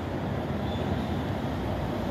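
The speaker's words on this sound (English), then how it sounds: "The train arriving at platform 4 is the 1441 service to Edinburgh Central" Train pulling into the platform at Haymarket station, Edinburgh, with a steady low rumble of wheels and carriages, close and fairly loud, no voices over it.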